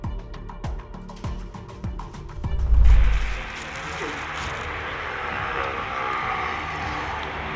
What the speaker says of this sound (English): The Frontier Airlines jet made a hard landing at San Juan Luis Muñoz Marin International Airport, Puerto Rico